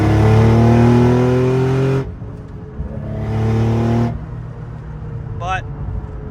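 A car with roughly 400 wheel horsepower and an engine note its owner calls unremarkable revs loudly and close up, holding a steady drone, dropping, then swelling again in a second burst.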